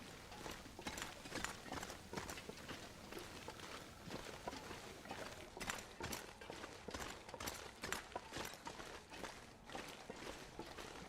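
Footsteps with crampons stomp steadily through snow in The Long Dark, a continuous crunching tread of quick repeated impacts, fairly faint with no talk.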